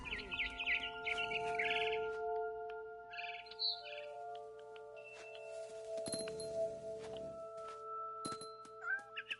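Barn swallow chirping in a video game, with short high tweets and clinking calls scattered over a steady tonal game background, fairly close and clear, with no talk.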